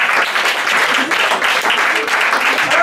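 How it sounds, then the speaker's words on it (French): Audience at an improv theatre show breaks into sustained applause, dense and loud throughout, with some voices mixed in under the clapping. "On applaudit, on applaudit."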